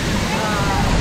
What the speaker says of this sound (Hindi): अभी एक स्टॉप आया है ये वाटरफॉल है पीछे